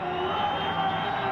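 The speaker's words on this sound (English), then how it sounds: "Listen to the crowd." Crowd at a racetrack producing a steady, dense roar of many voices that holds at an even level throughout, with no distinct individual shouts standing out.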